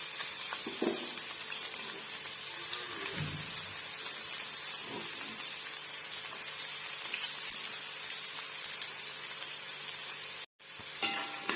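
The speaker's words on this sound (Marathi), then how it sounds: "इथं आपण तेल गरम करायला ठेवलेलं आहे आणि त्यामध्ये कांदा घालून" Onion fries in hot oil for chicken biryani, giving a steady, dense sizzle and hiss close up, with a few soft stirring knocks and one brief dropout near the end.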